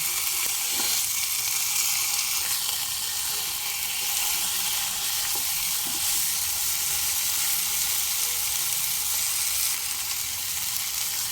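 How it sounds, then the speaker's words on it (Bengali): Whole tandoori chicken fries in a pan over high flame, giving a loud, steady sizzle with crackling hiss that runs unbroken throughout, no voices. "এই সাইডটাও একই রকমভাবে ভাজা হতে দেব"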